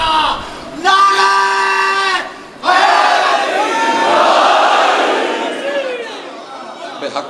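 A large crowd at a Muharram majlis at an imambargah in Lahore roars a religious slogan back in unison, two loud sustained shouted bursts with a brief gap between them, followed by an extended swelling wave of voices.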